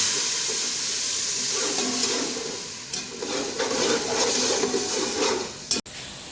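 Water is poured into hot frying masala for a beef yakhni pulao, giving a continuous steamy hiss and bubbling, then a brief clatter at the end.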